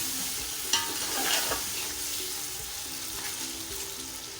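Boiled chicken browning in masala for chicken yakhni pulao, a continuous close sizzle with occasional stirring clinks and scrapes, alone and steady throughout.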